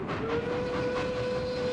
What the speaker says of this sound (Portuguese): O trem partiu sem o Zé.